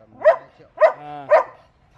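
A Border Collie gives three sharp, loud barks spaced about half a second apart, with a brief whining tone between the second and third, close and otherwise quiet.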